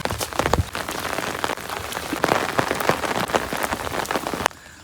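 Rain falls steadily onto a hard surface, with a dense patter of close drops and occasional louder splats, before cutting off abruptly near the end.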